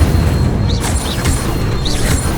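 Incendio fire spell cast in Hogwarts Legacy, a loud deep booming burst with a low rumbling roar that sustains, sharp bright flicks and whooshes riding over it.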